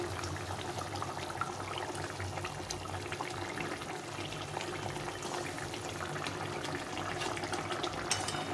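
Rohu fish pieces go one by one into a boiling spicy curry, with a continuous bubbling, watery simmer at low volume and soft splashy bits throughout, no talking.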